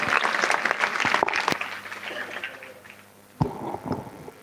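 An audience claps at a speech competition on Chhatrapati Shivaji Maharaj in Gadana village. A dense round of applause opens loud, then thins and fades over a couple of seconds, and a brief scattered burst of clapping follows.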